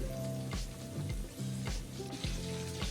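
Shrimp for a po boy sizzle in a hot pan, a steady close crackle punctuated by a few soft clunks as pieces are placed or moved, with no speech.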